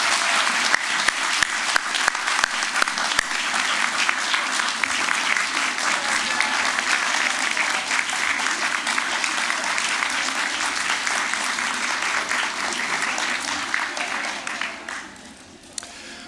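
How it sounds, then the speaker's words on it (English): Sustained, dense audience applause fills a graduation convocation hall, steady and loud for about fifteen seconds before tapering off at the end. "give a round of applause both to the amazing faculty and staff and your family and friends who are here today"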